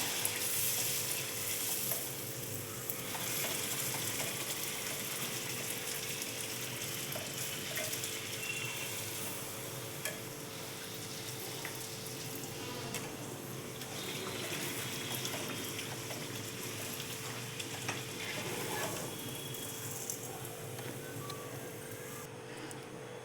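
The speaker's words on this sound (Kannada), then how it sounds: "ಪೂರಿ ಮಾಡ್ಕೊತಾ ಇದ್ದೀನಿ ಚೋಲೆ ಮಸಾಲಾಗೆ" Puri frying in hot oil for chana masala, heard as a constant dense bubbling sizzle that runs steadily and fairly loud throughout, with no speech.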